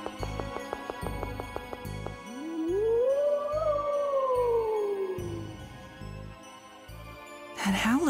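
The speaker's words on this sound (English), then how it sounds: "That howl again." A video game monster lets out a long, eerie howl that rises and then slowly falls over a few seconds, preceded by short rhythmic game tones and set against a quiet pulsing background.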